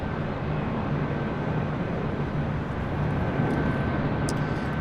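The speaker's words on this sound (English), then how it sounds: "Flight 1286 coming in from Dallas Love Field in that A319" An Airbus A319 airliner arriving at LAX produces a steady, broad jet engine roar with a faint whine, continuous and moderately distant, with no speech over it.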